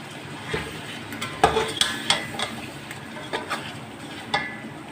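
Chicken frying with cumin, star anise, cinnamon, cloves and ground coriander for a shahi pilaf, a low sizzle under sharp, irregular scrapes and clinks of a spoon against the pot, close by and without speech.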